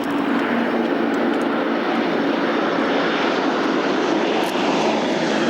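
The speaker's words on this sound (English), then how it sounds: "Famous American 4-engine long-range bombers, everything else, and this was the airplane that symbolized daylight precision bombardment." A four-engine American long-range bomber flies at an airshow, giving a loud, steady engine drone that fills the whole stretch without pause and sounds fairly close overhead.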